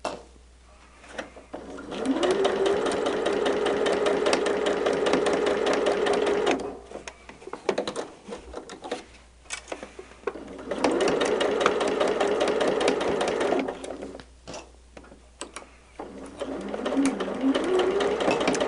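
A sewing machine stitches a checkerboard fabric border in two long steady bursts of rapid mechanical whirring, separated by brief pauses and a few soft handling clicks.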